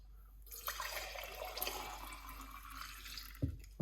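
Watermelon-rind drink pours in a steady stream into a container for a few seconds, ending with a small clunk.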